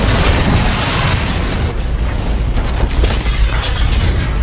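A bomb mechanism in a movie scene ratchets and clicks in dense mechanical bursts, loud and close, with crackling popping noise throughout.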